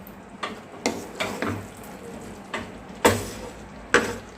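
Pointed gourd sautéing with poppy seed paste in a pan, a soft steady sizzle broken by a series of scraping, tapping spatula strokes as the mixture is stirred, close and moderate in level.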